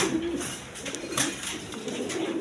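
Pigeons coo softly and repeatedly at a breeder's shop holding many pigeon breeds, their low calls close by over faint background noise.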